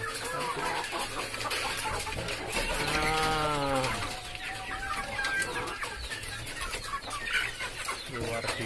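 Chickens cluck continuously nearby amid busy pecking and scratching as they eat black soldier fly maggots, with one louder drawn-out squawk in the middle.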